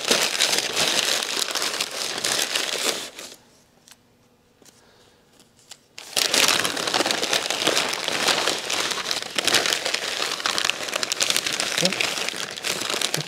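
Brown paper padding crinkles and rustles as it is folded over the edge of a flat screen TV during packing for a move, loud and continuous with a brief quiet pause midway.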